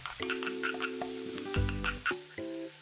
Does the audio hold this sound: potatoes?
yes